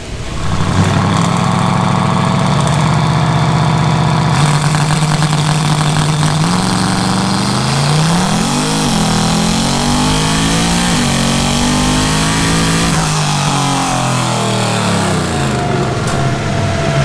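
A Chevy S-10 no-prep drag truck roars on a dyno at full throttle, climbing through the gears with rising engine pitch and sharp drops at each shift, loud and close for the whole run.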